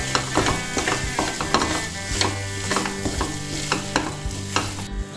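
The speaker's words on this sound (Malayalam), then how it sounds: "ഇനി ഇതിലേക്ക് നമുക്ക് ഫ്രൈ ചെയ്ത് വെച്ചിരിക്കുന്ന ചിക്കൻ പീസസ് ഇടാം. നന്നായി മിക്സ് ചെയ്ത് കൊടുക്കുക." Fried chicken pieces and onions get stirred in a pan for a restaurant-style chilli chicken, with steady sizzling under repeated scraping and clinking of a spatula against the metal, close and continuous.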